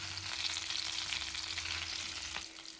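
Pomfret fish fries in a little oil in a covered pan, giving a soft, steady sizzle with light crackles. It sounds fairly quiet and continuous, with no voices.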